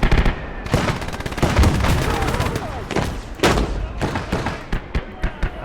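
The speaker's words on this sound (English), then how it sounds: "I'm just gonna put some mortar fire into there" Mortar and gunfire in a Kelly's Heroes World War II tank battle game, rapid loud bursts and booming blasts, near and crowded together, with a voice speaking at times over the shooting.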